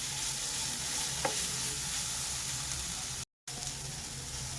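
Ten to twelve cashew nuts fry in a pan with a steady, moderate sizzle close by, marked by one faint clink and a brief cut to silence near the end.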